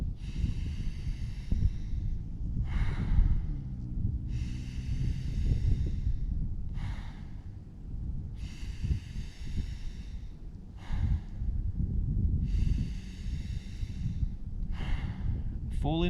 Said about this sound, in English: So drawing deep on the inhale, letting go of the exhale.